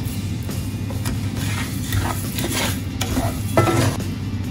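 Coriander seeds dry-roasting with spices in a pan for homemade rasam powder, with a dense rattling and scraping stir, close and steady, and no voices.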